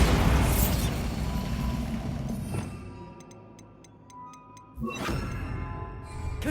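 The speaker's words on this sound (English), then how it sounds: "Bombardo." A Bombardo explosion spell in Hogwarts Legacy, a loud booming blast that decays into rumble, followed by a run of evenly spaced ticks and then a second sharp burst.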